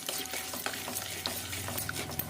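Mustard seeds, cumin and fenugreek crackle and sizzle in hot oil, with a steady close frying hiss and scattered sharp pops from the seeds and a few light stirring scrapes.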